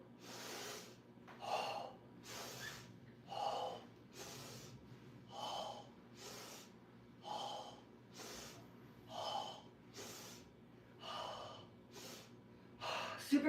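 A person does a rhythmic breathing exercise during a full-body flexibility stretch, with sharp, forceful breaths repeating in a steady pattern about every second, close and clear over quiet background.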